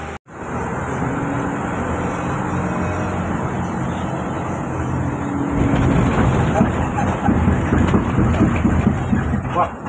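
A Trans Semarang Koridor 6 city bus drives through traffic, heard from inside as continuous engine drone and road rumble that grows slightly louder later on, with faint voices in the background.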